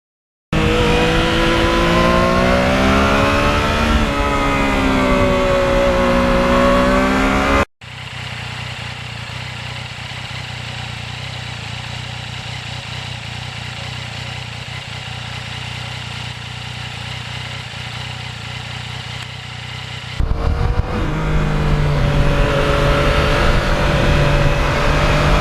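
A 2020 Yamaha MT-09 motorcycle with no muffler, only a catalytic converter, revs loudly and up close, its pitch rising and falling, then drops to a lower steady drone before a sharp burst of revving returns at the end.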